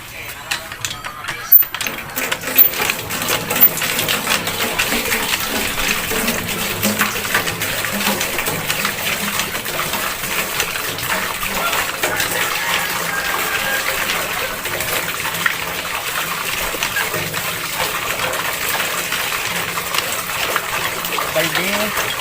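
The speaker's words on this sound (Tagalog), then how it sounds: "So ayan guys, mag-igib na tayo ng tubig." Water being drawn and poured into buckets for a cucumber patch: a steady, near gushing wash with intermittent clanking, mechanical rattles and faint background voices throughout.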